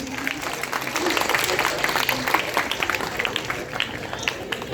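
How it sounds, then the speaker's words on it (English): Clapping from an audience at a secondary school prize-giving ceremony, dense and continuous with crisp individual claps, fairly close and loud, holding steady for several seconds with faint voices underneath. "So give a big clap for her."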